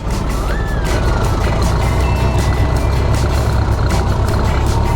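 A 100-year-old car accelerating off the start line in a drag race, a loud, continuous close engine roar that stays dense and steady for the whole stretch with no speech.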